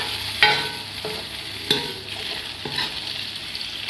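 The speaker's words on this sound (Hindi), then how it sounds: "तो अब इस स्टेज पे मैं डालूंगी सारे टमाटर, और टमाटरों को मैं अच्छे से मिक्स कर लूंगी।" Chopped tomatoes and onions fry in a pan while being stirred, with a steady sizzle throughout and several distinct scrapes and knocks of the spoon against the pan, close and fairly loud.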